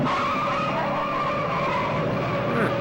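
Car in a 1973 film skidding with tires squealing and engine running, a loud sustained screech with a steady tonal whine throughout.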